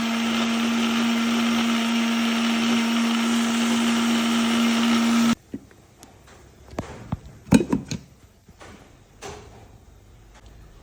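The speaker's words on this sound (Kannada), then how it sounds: "ರುಬ್ಕೊಳ್ಳೋಣ" A mixer grinder whirs loudly and steadily, grinding coconut, tomato and homemade chilli powder into a red paste. It cuts off abruptly partway through, followed by quiet clicks and knocks of the jar being handled.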